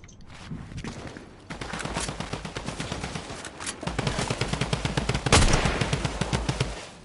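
Rapid drum gun fire in a video game, long bursts of fast, evenly spaced shots that build louder toward the end, close and dominant with no talking.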